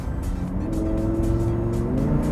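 A Lamborghini with four-wheel drive pulls away hard from a standstill, its engine note climbing steadily as it accelerates, loud and close throughout with no talking.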